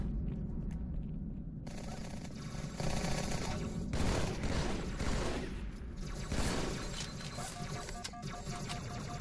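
Rapid sustained gunfire in the video game Halo 2 on Legendary, dense bursts of automatic shots and plasma weapon fire running continuously, loud and close throughout.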